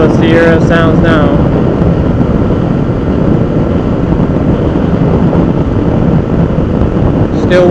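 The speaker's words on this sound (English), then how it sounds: "Still windy, still hear a lot of noise coming through my helmet." Loud, constant wind roar buffets a rider's helmet on a Honda CB500X fitted with a Puig touring windscreen, a dense rushing noise that never lets up, with brief voice sounds at the start and end.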